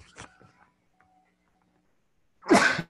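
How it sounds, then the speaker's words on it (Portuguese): A single loud, close human sneeze bursts out at the end after faint breathy sounds and small rustles in a quiet room. "Vou espirrar de novo."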